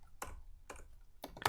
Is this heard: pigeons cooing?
no